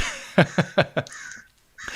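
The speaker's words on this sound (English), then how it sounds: "it's a crow." A crow caws four times in quick succession, loud and close, followed by a short pause and faint background sounds.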